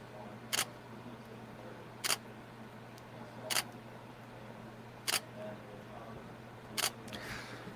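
Camera shutter firing five times at steady intervals of about a second and a half while photographing a Ferrari LaFerrari model car, each crisp click standing out against a quiet room hum.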